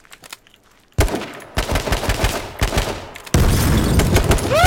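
Automatic rifle fire in the survival shooter H1Z1, loud close bursts after a quiet start, broken by brief gaps and ending in a sustained rapid burst.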